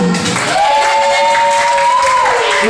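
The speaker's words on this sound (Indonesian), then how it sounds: "Kita tepuk tangan dulu untuk pembelajaran hari ini." A classroom of students claps together in a continuous burst of applause lasting a few seconds, with a steady high whistling tone running through the middle of it.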